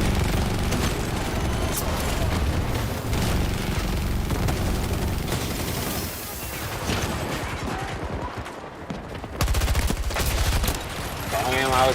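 Rapid gunfire from a video game, with bursts and single shots running loud and dense through the whole stretch, layered over other game sounds.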